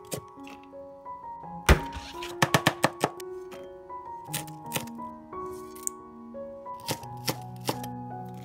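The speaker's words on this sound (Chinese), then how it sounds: "切碎就可以了" A knife chops garlic, ginger, scallion and dried chili on a board, with uneven sharp thunks, including a quick burst of rapid strokes, close and loud, with musical tones playing underneath.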